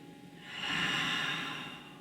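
One long, deep, audible breath drawn during a held stretch, close and breathy, swelling to a peak midway and then slowly easing off, with no talking.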